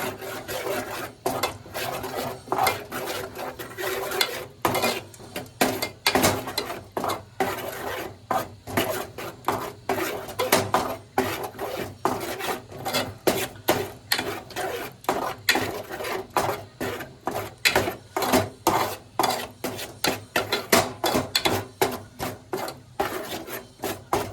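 A spoon scrapes and rubs around a bowl while chutney for fish is mixed, a Malvani-style pomfret preparation, giving repeated rhythmic rasping strokes, close and steady, with no talk.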